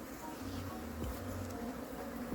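Honeybees in an opened beehive, a soft steady buzzing drone with a few brief louder passes of individual bees, fairly quiet and close.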